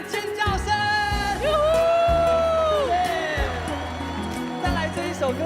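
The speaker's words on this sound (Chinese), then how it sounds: "所有大城的朋友们，来点尖叫声！" Screaming and cheering from the audience at a 2022 Dacheng concert, a loud rising wave of crowd yells and whoops from nearby, mixed with strong sustained voiced shouts and a person talking over it.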